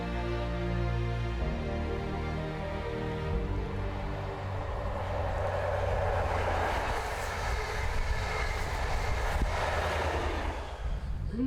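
A train runs steadily over Drumochter Pass in the UK, its loud, continuous rumble and rolling hum close and unbroken throughout, with no talk.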